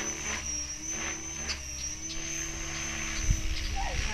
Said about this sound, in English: Helicopter, watch it.